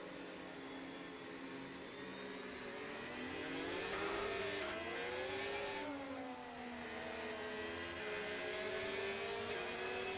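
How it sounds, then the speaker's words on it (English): A Ferrari Formula 1 engine in the F1 25 racing game howls steadily at high revs from the cockpit, its pitch rising and dipping through gear changes. It carries on alone for about ten seconds. "We go quiet and let the engine roar in your ears."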